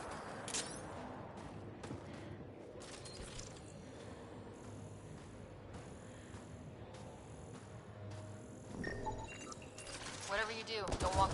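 Rapid gunfire fusillades rattle through a Mass Effect: Andromeda firefight, steady clusters of shots with mechanical clanks, growing denser and louder near the end.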